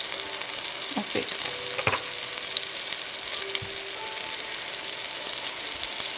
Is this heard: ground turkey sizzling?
yes